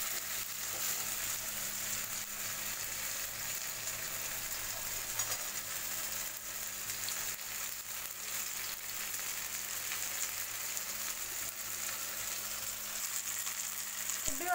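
Fish pieces frying in oil in a kadhai for a chilli fish fry, a steady, soft, continuous crackling sizzle with no speech, holding evenly throughout.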